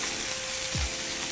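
Chicken fries in a non-stick pan with a steady broadband sizzle, close and alone. A short low thump partway through suggests the pieces being turned over.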